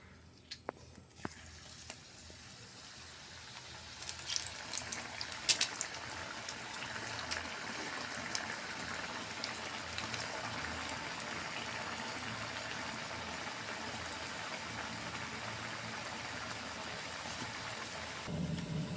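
Seeval ribbon batter pressed into hot oil, a dense steady sizzle and bubbling that swells after a few seconds and holds evenly, fairly faint.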